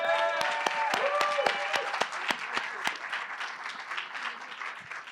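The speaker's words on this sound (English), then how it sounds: "We'll give you one more round of applause." An audience claps after a presentation on jazz under the Third Reich, with moderate applause and a few sharp close claps, while a voice briefly speaks over the start before the clapping slowly tapers.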